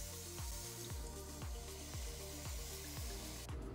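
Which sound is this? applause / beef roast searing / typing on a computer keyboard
beef roast searing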